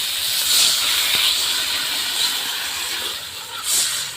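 Water poured onto frying spice paste with chopped tomato in a pan, giving a loud steady hiss of sizzling and steam that swells again near the end.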